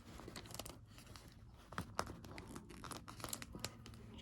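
Close, quiet tearing and crinkling as transfer tape lifts a cut vinyl sticker off its backing, with a few sharper crackles midway through the peel.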